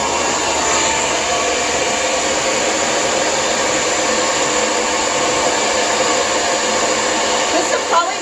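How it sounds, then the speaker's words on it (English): A Lange Soleil hair dryer blows in a steady, loud, unbroken whoosh with a high whine, running alone throughout. "this will be a great time to turn off your hair dryer"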